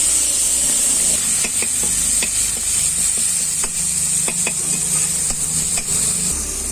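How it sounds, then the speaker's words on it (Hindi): Tomatoes, chillies and green chillies roast with mustard seeds while a spoon stirs them. A loud, constant sizzling hiss carries scattered sharp spoon taps against the pan, and no one speaks. "अब इसमें टमाटर, मिर्ची और हरी मिर्च डाल देंगे और अच्छी तरह से चम्मच लगा के भून लेंगे।"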